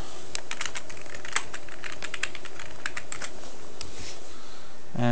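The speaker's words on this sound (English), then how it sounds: "So let me just put in the password real quick." A computer password is typed on a keyboard as a rapid, even run of crisp key clicks over a low background hum, ending in a short louder burst.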